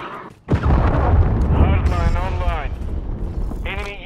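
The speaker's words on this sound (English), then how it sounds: "Friendly cruise missile deployed." A cruise missile strikes in Call of Duty: Modern Warfare II, a sudden loud boom followed by a sustained rumbling roar while game voices speak over it.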